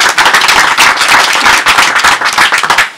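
Loud, close applause from an outdoor crowd at an auto-cross event, cheering a long-standing sponsor; dense, crackling clapping with sharp individual claps popping out in an uneven rhythm, continuous to the end.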